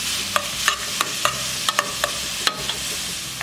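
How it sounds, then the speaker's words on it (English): Onions and ginger cooking in a pan, with a steady low sizzle and a string of sharp clicks from a utensil stirring and scraping the pan at close range, no voices. "So I'm going to cook the onions until they become nice and beautiful golden brown"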